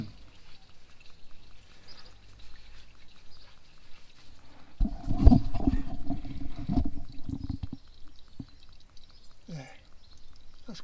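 Engine oil drains from a 2017 Fiat Ducato motorhome during an oil and filter change, a steady splashing pour that starts abruptly, runs for a couple of seconds, then dies down to quieter dripping.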